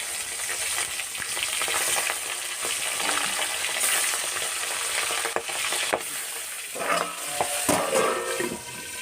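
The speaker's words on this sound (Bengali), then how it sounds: "এবারে মাছগুলো ভেজে নেব।" Tangra fish fry in hot mustard oil in a kadai, producing a loud, continuous sizzling hiss with occasional crackles and stirring scrapes, heard close and without speech.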